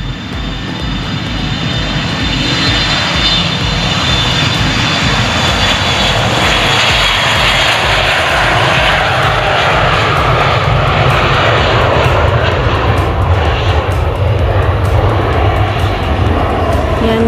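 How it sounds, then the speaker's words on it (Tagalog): A small airplane takes off near a highway by the Davao City airport, its engine a loud, close, steady roar that holds for the whole stretch. "Papalipad na yung aeroplano mga kabads."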